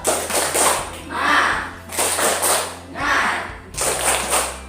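Students in a primary school maths class clap in rhythmic bursts while they sing a group song, with the claps recurring in regular groups.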